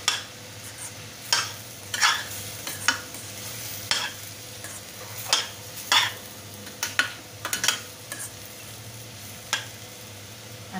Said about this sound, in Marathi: टोमॅटो आहे म्हणून थोडीशी साखर. चांगलं परतून घ्यायचं.